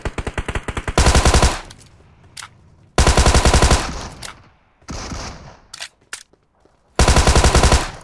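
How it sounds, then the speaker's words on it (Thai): P90 submachine gun fire in PUBG Mobile: three loud, close, sustained automatic bursts of rapid rattling shots, separated by quieter gaps with distant gunshots and shuffling. "มันเล่นปืนนี่ P90"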